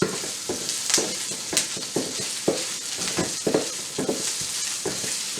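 Meat sizzling loudly in a hot pan for shrimp fried rice, with a steady crackle and the repeated scrape and toss of stirring close by.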